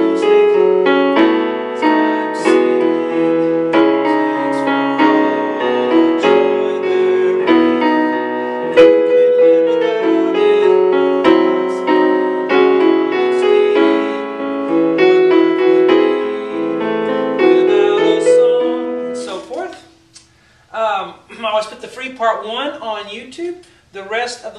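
A solo piano plays a song with a flowing melody over steady chords, loud and close, and a voice sings over the piano near the end.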